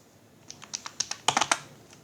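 Fingers typing on a computer keyboard while entering fixed-deposit interest into an income tax return form: about ten crisp, close keystrokes in two quick bursts, with no voices.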